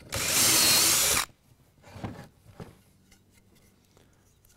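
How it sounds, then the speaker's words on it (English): A power drill drives pocket screws through a K4 pocket screw jig into wood, one loud continuous whir of about a second, followed by quieter handling clicks and knocks. "I'm putting this together with my K4 pocket screw set."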